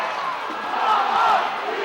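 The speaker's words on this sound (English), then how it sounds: "And now the Blaze crowd makes some serious noise." A Coventry Blaze home crowd roars and cheers loudly at a 2013 ice hockey game against the Sheffield Steelers, a dense, sustained wall of voices that swells briefly partway through.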